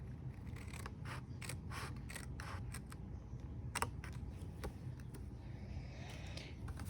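Scissors snip through paper while a holiday craft gift card holder is cut out, giving a quiet series of sharp, irregular clicks over a faint steady background hum.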